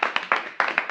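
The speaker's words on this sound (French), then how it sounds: "Je pense qu'on peut les applaudir." A small audience claps at a student event after thanks for a week's effort, a short burst of distinct, slightly uneven hand claps close by, with no talking.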